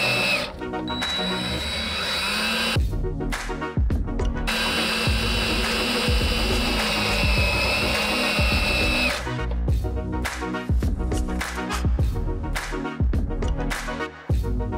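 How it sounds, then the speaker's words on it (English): Power screwdriver driving screws through a LittaTrap filter box into its mounting bracket, loud whirring bursts with pauses and clicks between runs, close up and without speech. "screwing through the filter box into the bracket"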